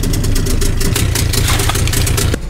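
A brand-new boat engine running in its first hours, overfilled with oil and smoking, gives a steady close idling drone with a low rumble that drops slightly at the very end.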